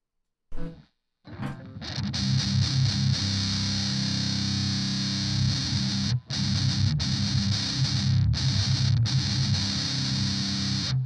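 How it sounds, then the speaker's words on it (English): A heavily distorted electric guitar plays sustained, buzzing chords with a swirling MXR Phase 90 phaser sweep, cutting off briefly between loud held passages. "That's what our tone sounds like with the distortion."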